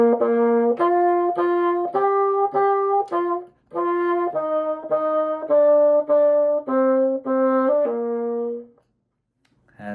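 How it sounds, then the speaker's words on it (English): A bassoon plays "Twinkle Twinkle Little Star" in separate, slow, evenly paced notes, warm and reedy, with a brief pause midway before the tune resumes. "But with the bassoon, it sounds like this."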